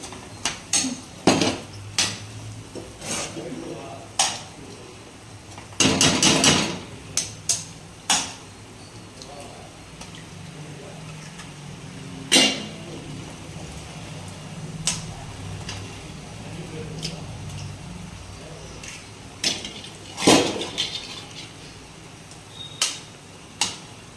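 Eggs, three of them, being cooked with onions in a pan for a green chilli egg fry, heard as scattered sharp clinks and scrapes of utensils against the pan, including one dense burst of clatter.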